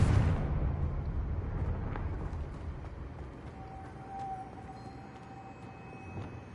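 Confringo explosive spell from Hogwarts Legacy erupts in a loud burst at the start, then rumbles away into a low fading roar with faint game ambience.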